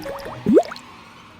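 A short trickle of water being poured into milk, one rising gurgling splash in the middle preceded by a few light drips, fairly close and alone without speech.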